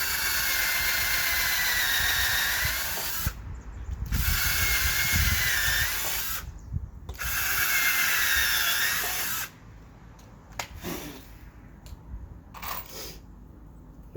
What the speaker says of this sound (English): So we pre-drill our holes.